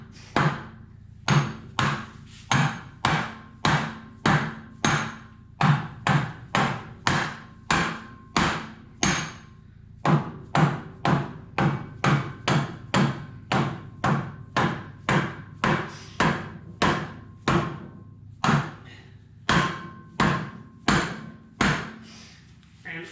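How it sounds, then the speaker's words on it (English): Rubber hammer knocking repeatedly on the front subframe of a Jaguar MKII during suspension fitting, about thirty steady, evenly spaced thuds close up with no talk. "Now let's get one's rubber hammer."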